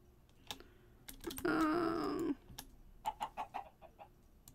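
A Minecraft chicken from a Botania modpack clucks in a short burst of several quick, soft clucks, joined by a louder squawk-like tone and scattered light clicks like keyboard typing.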